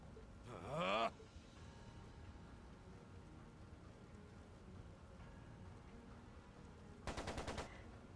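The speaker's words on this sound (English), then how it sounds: "It sounded like a machine gun." Two short bursts of rapid machine gun fire from the video game Trails of Cold Steel II, one near the start and one near the end, with quiet ambient crackle between them.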